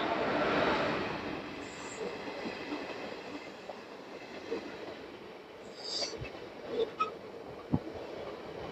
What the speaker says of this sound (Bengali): আর এই যে ট্রেন ঢুকছে 13432 বালুরঘাট নবদ্বীপ এক্সপ্রেস